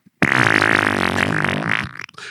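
An electronic fart machine used as a prank lets out one long, loud, buzzy fart lasting about two seconds, close up and with no talk over it.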